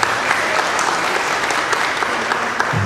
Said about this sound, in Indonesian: Boleh tepuk tangan untuk BEI